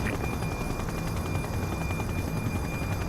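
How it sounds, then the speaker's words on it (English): A news helicopter hovers over a downtown police shootout in the video game The Precinct, its steady rotor roar filling the scene continuously with a dense broadband rumble, loud and unbroken, with no speech. "the #1 news chopper in Averno City"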